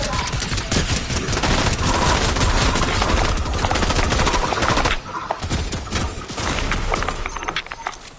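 Dense, loud bursts of automatic gunfire from a squad-based shooter video game, rapid overlapping shots with a brief pause midway before the firing resumes.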